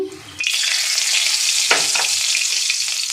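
Dried red chillies and asafoetida hit hot oil in a wok, and a loud, steady sizzle erupts after a quiet start and holds close and bright to the end.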